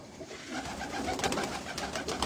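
Pure Faisalabadi Jonsra pigeons coo in a steady, close murmur of soft overlapping calls, with a light rustle running underneath.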